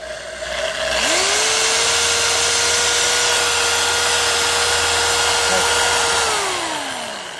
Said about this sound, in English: Go back over here and drill that one.